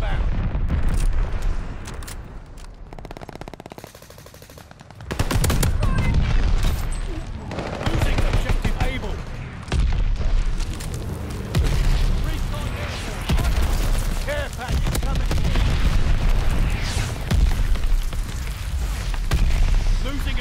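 Mortar fire and explosions in Call of Duty: Vanguard, a dense run of loud booms and gunfire-like bursts filling most of the stretch, with a brief quieter gap early on and players' voices mixed under the battle noise.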